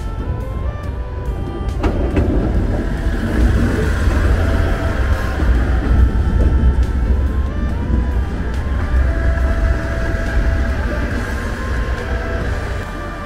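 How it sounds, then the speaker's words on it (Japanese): A train pulling into Naruko-Gotenyu station on a snowy morning, a low rumbling approach building steadily and staying fairly loud, with rail rumble throughout. "列車やってきましたな。"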